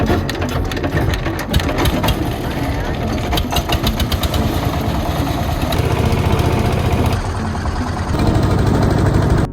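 A hired wooden trawler boat's engine chugs loud and close in a fast, steady mechanical rattle while crossing the calm Padma river in winter, with a sharp change in tone near the end.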